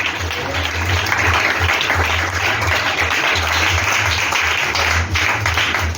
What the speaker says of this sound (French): Acclamons ce travail missionnaire.